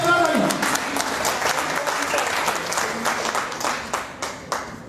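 Audience applause for an actress at a company gathering, a loud burst of clapping that thins into scattered individual claps toward the end, with a voice briefly at the start.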